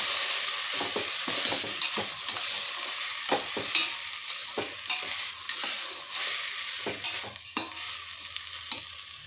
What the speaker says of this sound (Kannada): ಮೊಳಕೆ ಕೊಟ್ಟಿರೋ ಹೆಸರುಗಳನ್ನ ಹಾಕ್ತಾ ಇದ್ದೀನಿ ಒಂದು ಬಟ್ಲು ಇದನ್ನೆಲ್ಲ ಮಿಕ್ಸ್ ಮಾಡ್ಕೊಳ್ಳೋಣ